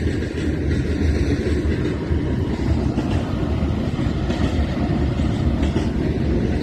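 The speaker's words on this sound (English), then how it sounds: "the trains are going by one after another" A train rumbles steadily past at close range, a continuous loud low roar with faint rattling from the cars on the tracks.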